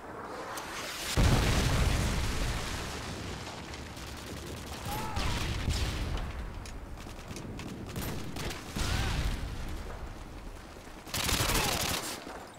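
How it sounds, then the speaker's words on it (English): Predator missile strike in the video game Modern Warfare 2, heavy booming explosions and rumbling gunfire bursts in several waves, loud and close over a busy battle soundscape. "Friendly predator missile inbound."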